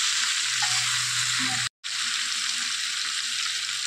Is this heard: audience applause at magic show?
no